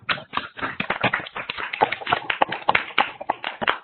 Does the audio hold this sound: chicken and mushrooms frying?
no